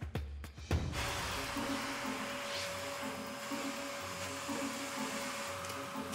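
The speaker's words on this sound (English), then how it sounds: "Sorry about the owner walking through with a Hoover." A Hoover vacuum cleaner runs steadily in a hotel, a continuous motor drone with a sustained whine, starting after a brief clatter and holding at an even, fairly close level throughout.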